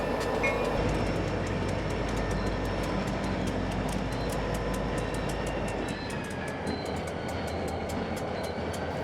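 Empty freight cars roll along rails during a switching move, with a continuous loud rumble, rhythmic wheel clicks and faint high squeals.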